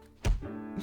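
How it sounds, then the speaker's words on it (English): A single soft, dull thud as a bouquet is knocked to the ground in the video game Reverse 1999, brief and isolated against a quiet background. "The bouquet sent by Legers is knocked to the ground."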